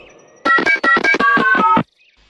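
A mobile phone being dialed gives a quick run of about eight clear electronic beep tones in close succession, loud and alone, followed by near silence.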